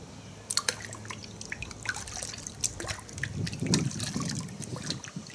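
Thick, concentrated car shampoo with a berry scent is poured into a bucket, giving soft dripping and trickling splashes that build into a low gurgle, close and fairly quiet.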